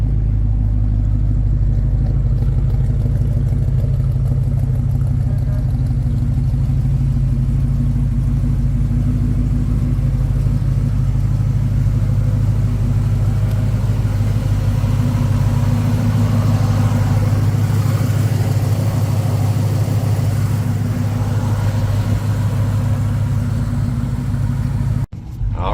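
A 1972 Chevrolet C/K 10 pickup engine idles steadily with a deep, even rumble, close and loud throughout with no voices.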